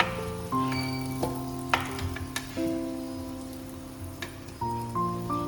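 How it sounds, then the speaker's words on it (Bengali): Oil sizzling steadily in a pan as potatoes fry for mutton biryani, with clinks and scrapes of a utensil and ringing metallic taps over the frying. "আলুগুলো দেখো লাল লাল করে ভাজা হয়ে গেছে"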